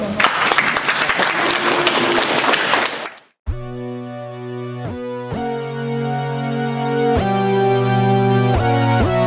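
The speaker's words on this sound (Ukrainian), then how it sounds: "прошу оплесками зустріти наших артистів" An audience at a concert where Ukrainian stars perform for National Guard soldiers welcomes the artists with about three seconds of dense, loud clapping. It stops abruptly, and sustained music starts right after.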